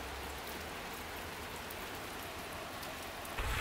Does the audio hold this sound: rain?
yes